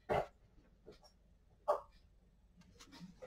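A couple of short, soft dog barks or yips, spaced apart, fairly close but quiet, with faint rustling between them.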